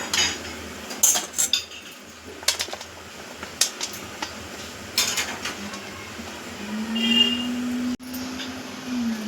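A metal spoon scrapes and clinks against a bowl while stuffing is packed into cut capsicums in a home kitchen, with irregular close taps and scrapes across the whole stretch and no talking.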